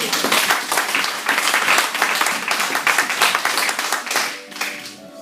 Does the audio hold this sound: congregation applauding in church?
yes